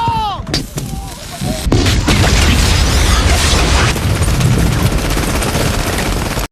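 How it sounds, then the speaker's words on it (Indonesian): A bomb blast destroys an iron defensive fence in a World War film battle scene, a loud booming explosion followed by sustained roaring debris and gunfire-like crackle, with brief speech at the start. "pasukan Amerika merakit bom dan berhasil meledakkan pagar besi pertahanan Jerman"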